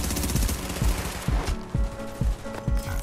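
Gunfire in the video game The Division 2, with loud, close bursts of rapid shots followed by a string of single booming reports at a steady rhythm, all over ongoing combat noise.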